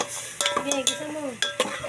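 Ingredients sautéed in a pan for soup, with brief scrapes and clinks of a utensil against the pan over a faint sizzle, set among spoken voices.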